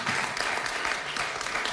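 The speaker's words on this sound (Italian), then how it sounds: "Ultimo atleta presente, e lo salutiamo con un grande applauso, Tommaso Leoni, snowboard." Audience applause for a snowboarder from Asiago at an Italian sports event: dense, steady clapping from a crowd that fills the whole moment without pause.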